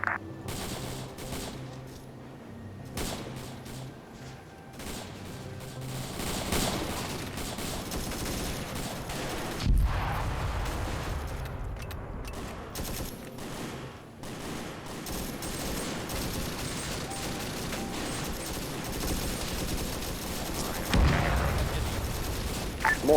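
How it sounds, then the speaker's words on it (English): Mortar and gunfire in a military video game, a series of distant thumping blasts and rattling shots over a continuous rumbling background, with heavier impacts spaced irregularly through the stretch. "Mortars are a bit close there, boys."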